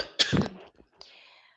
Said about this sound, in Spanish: ahora sí me está dando bastante tos